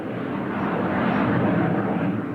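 English Electric Canberra jet flying at an airshow, a loud steady broadband roar of jet engines holding evenly throughout with no voices.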